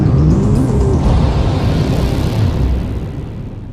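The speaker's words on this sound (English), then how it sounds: "The upper stage of the rocket fires again." A rocket's upper stage engine fires again during the climb to orbit, a loud, steady, broadband roar with a deep rumble that holds throughout and eases slightly near the end.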